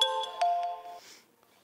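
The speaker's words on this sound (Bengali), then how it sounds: "তোর ভাবি ফোন দিচ্ছে।" An incoming call on a mobile phone: a short melodic ringtone of a few clear chiming notes that lasts about a second, then fades to quiet.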